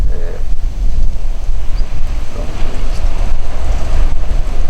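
Sea waves striking a seawall at Rio de Buenos in summer, a continuous low rumbling wash mixed with gusting wind buffeting the microphone, loud and close throughout.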